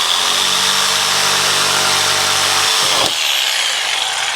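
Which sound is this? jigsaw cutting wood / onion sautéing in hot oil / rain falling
jigsaw cutting wood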